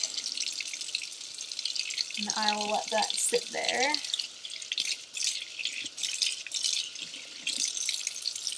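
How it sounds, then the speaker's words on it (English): Water drains steadily out of a kitchen sink after wool swatches are washed in cold water, a continuous close gurgling rush that runs throughout, with a person speaking briefly over it. "And let the water drain out of the sink."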